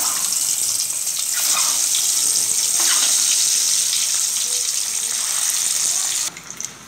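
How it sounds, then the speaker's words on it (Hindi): An egg frying in hot oil in a home kitchen while preparing an aloo-anda curry gives off a steady, close hiss and sizzle that stays loud for several seconds, then cuts off near the end. "तेल हमारा गर्म हो चुका है दोस्तों। अब पहले हम अंडा फ्राई कर लेते हैं थोड़ा सा।"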